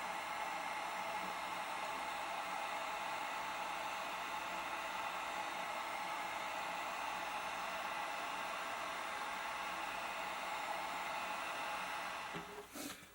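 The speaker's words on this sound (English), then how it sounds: "we get the heat gun set to low, and we're just going to slowly melt that in" A heat gun set to low blows steadily while melting a heavy coat of wax into leather, a constant close airy hiss that cuts off near the end with a brief clatter.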